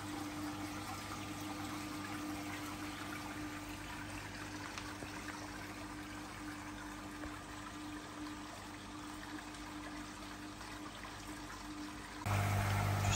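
A koi pond's bottom drain pump runs steadily with moving water, a constant, moderately quiet hum and wash that holds throughout and gets slightly louder near the end, with no talking.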